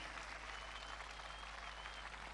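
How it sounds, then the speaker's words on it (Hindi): An audience claps for the nation at a gathering, producing a continuous dense wash of applause heard faintly and evenly from start to finish over a low steady hum. "Come on, I want to hear a much bigger clap than I heard even now."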